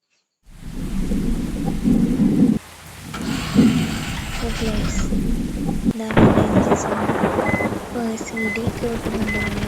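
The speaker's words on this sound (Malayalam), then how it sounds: "മഴയാണ്" Heavy rain pours steadily while thunder rumbles and cracks nearby, with a loud burst midway through, the downpour continuing as a constant hiss throughout.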